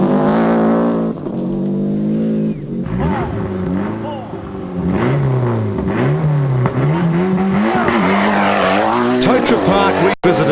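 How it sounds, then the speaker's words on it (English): Mitsubishi Lancer rally car on a 1994 Rally of New Zealand stage, engine revving and shifting loudly and continuously close by, with a commentator talking over it. "Schwartz lets go with a real ripper in the Mitsubishi Lancer"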